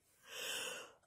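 A single sneeze-like burst from a plush Godzilla character, a breathy hiss that swells and fades over about a second, fairly faint and heard alone without talk.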